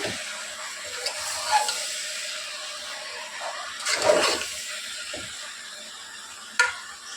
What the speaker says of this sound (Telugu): ఇప్పుడు బాగా మిక్స్ చేసుకోవాలి